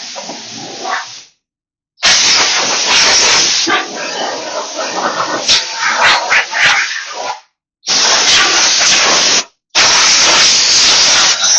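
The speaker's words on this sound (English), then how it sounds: "what I'm going to do is take some air to it, that this area here, get any of the particles from welding out of it" Compressed air blasts welding particles off a trailer and its wheel before painting. The loud, harsh hissing comes in long bursts separated by short silent pauses.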